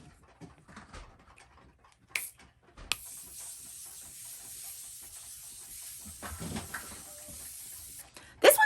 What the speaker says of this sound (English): we're going to go in with the Morphe Continuous Setting Mist